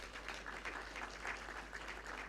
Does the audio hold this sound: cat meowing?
no